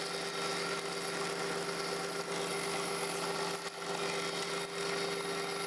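A wood lathe turns a wooden faceplate blank in a continuous, steady motor hum with a constant pitch, near and unbroken, with no voices over it.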